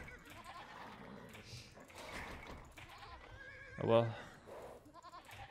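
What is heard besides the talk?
sheep bleating in Age of Empires video game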